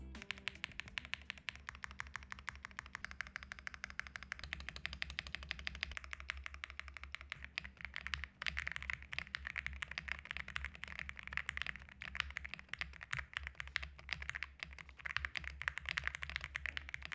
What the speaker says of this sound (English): it's time to hear how this keyboard sounds